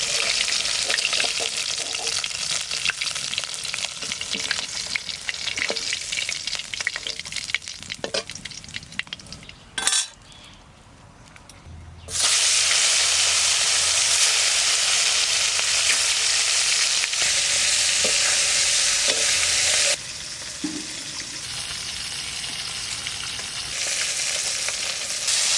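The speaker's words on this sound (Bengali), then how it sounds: "মাছ ভাজা হয়ে গেছে, তুলে নেব।" Fish fries in hot oil for a Bengali dish with fresh garden mankochu. A loud, steady sizzle plays on its own, dips briefly near the middle, then returns at full strength.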